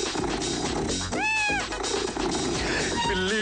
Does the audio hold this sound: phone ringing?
no